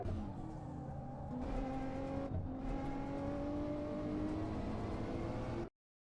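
Race car engine in Assetto Corsa on the Tokachi track, revving up through a gear with rising pitch, a brief dip at a shift, then climbing again, loud and continuous before cutting off abruptly.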